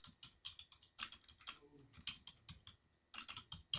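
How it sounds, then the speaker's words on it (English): Typing on a computer keyboard while entering a paragraph in Microsoft Word: a steady run of quick, close keystroke clicks in irregular bursts, with a short pause near the middle and no talking. "we're going to type in the next paragraph"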